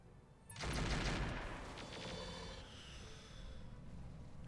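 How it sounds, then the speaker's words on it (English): Weapons fire pounding a Spider mech in BattleTech with the RogueTech overhaul mod: a sudden loud burst of gunfire and impacts, then a sustained rumbling barrage of shots that continues at a steady level without talk. "I'm ready for them to stop shooting my spider."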